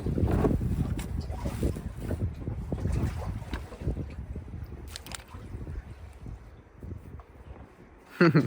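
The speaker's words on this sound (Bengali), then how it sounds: "আওয়াজ শুনতে পাচ্ছেন ঢেউ তো অনেক হ্যাঁ?" Sea waves slosh and wind buffets the microphone aboard a fishing boat on the open sea on a cold winter night, a steady rushing wash with gusts throughout and a louder close splash near the end.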